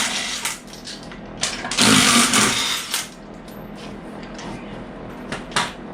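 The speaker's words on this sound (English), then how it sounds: "Let's get these tires off here and give us some room to work with" Tires coming off a truck's wheels in a workshop produce bursts of mechanical whirring and rattling, with one longer, louder burst near the middle and shorter hits around it, close by with no talking.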